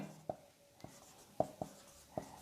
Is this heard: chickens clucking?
no